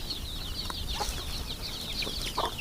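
Chickens clucking softly at a farm, with scattered short clucks over a steady background hiss of insects or outdoor ambience, fairly quiet and without talk.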